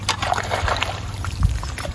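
Irrigation water trickles and splashes as it is diverted with a shovel in a field, close gurgling and sloshing with a few irregular scoops and thuds, without any talking.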